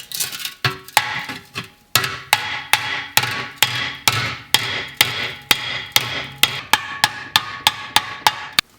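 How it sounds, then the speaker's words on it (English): Sharp metallic hammer blows ring out one after another at a steady, quick rhythm, each strike clanging against a dented sheet-metal Honda CB500F motorcycle fender with a short resonant decay. "I want to hammer it out."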